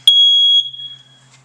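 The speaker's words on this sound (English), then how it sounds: "we make sure all the smoke alarms work" A household smoke alarm under test gives one loud, piercing high-pitched beep lasting about half a second, then fades into a quiet room.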